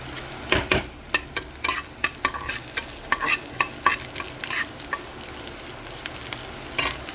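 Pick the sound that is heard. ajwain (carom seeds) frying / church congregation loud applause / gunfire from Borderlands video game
ajwain (carom seeds) frying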